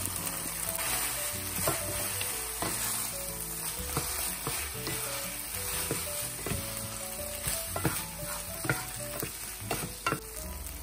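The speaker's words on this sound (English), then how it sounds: "Stir often to enhance the blending." Pad thai rice noodles with ground peanut are stirred and fried in a hot pan, a steady sizzle running throughout under repeated scraping and clacking strokes of a spatula, close and even, with no talking.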